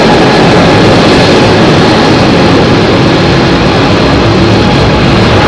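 A heavy airliner takes off from runway 27R at London Heathrow, a loud, steady broadband engine roar that fills the whole stretch without pause.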